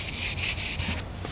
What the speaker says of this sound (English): Okay, I finished sanding the section